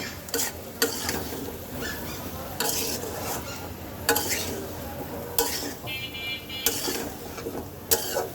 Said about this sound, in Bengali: সব কিছু একসাথে সুন্দর করে মিক্সড করে ঢেকে দেব